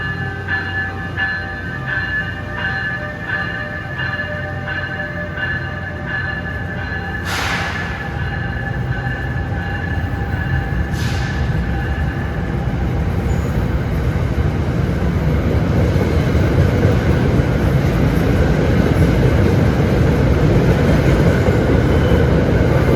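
Commuter train 3511 for South Amboy at Newark Penn Station rumbles steadily on track 4, its noise building over time, with a steady tone and two brief bright hisses, like brake releases, early on.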